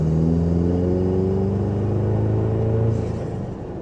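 A turbocharged 4th-gen Toyota Tacoma engine fitted with a 6th Element aftermarket intake holds a steady, loud, deep rumble with low harmonic tones, easing off slightly near the end.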